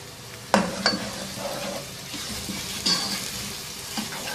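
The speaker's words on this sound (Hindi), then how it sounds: "प्याज को इतनी देर तक फ्राई करेंगे कि ये गोल्डन ब्राउन हो जाए।" Finely chopped onions frying in oil in a pot over medium heat, a soft continuous sizzle with a few sharp clinks and scrapes of a spoon against the pot, close and steady with no talk.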